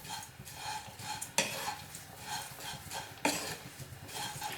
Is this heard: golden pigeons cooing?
no